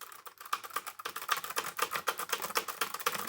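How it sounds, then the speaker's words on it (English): Rapid, fairly quiet typing on a computer keyboard at a FlexiSpot E6 standing desk, with a dense irregular run of light key clicks heard alone and up close. "And as we're typing,"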